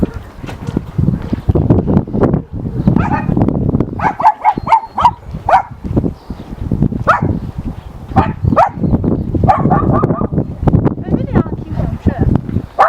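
Young dog barking and whimpering in a suburban setting, with repeated sharp barks and whines close by amid clattering noise, alternating with a person talking.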